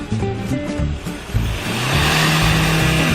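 A Hyundai Santa Fe engine that had been giving off exhaust smoke idles briefly, then revs hard as the accelerator is pressed, swelling into a loud, rough roar that holds to the end.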